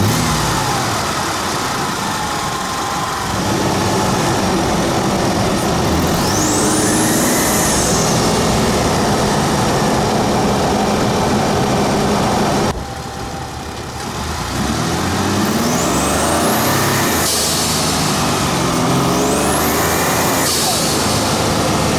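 A Ford F-150 EcoBoost pickup with a vent-to-atmosphere blow-off valve, driving with a loud steady engine drone, sharp whooshing releases rising then falling after throttle lifts, and a brief dip partway as the engine quiets.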